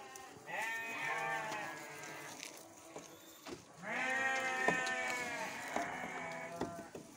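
Several sheep bleat loudly in two long, wavering calls at a farm during afternoon feeding, with light rustling and chewing noises between them.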